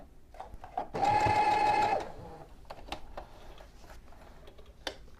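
Sewing machine running a short burst of reverse stitching to reinforce a seam on a baby's pillowcase dress, a steady loud whirring for about a second, then scattered light ticks and clicks of the machine.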